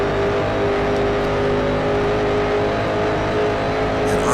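A race car engine in Grand Prix Legends holds a steady, loud, sustained drone at light throttle, with a constant tonal whine running throughout the whole stretch and no talking.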